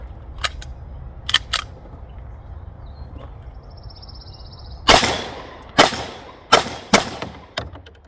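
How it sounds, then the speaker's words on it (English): An STI Grandmaster pistol fires at an outdoor range: several sharp, loud gunshots in an irregular string, each with a short ringing tail, preceded by lighter clicks and quieter pops over a low background rumble. "I'm literally shooting under the sight right now."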